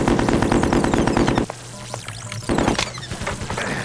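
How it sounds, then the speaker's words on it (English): A machine gun in the video game Technoshock fires in rapid, loud close bursts of repeated shots, pausing for about a second before another burst resumes, with no speech. "machine gun"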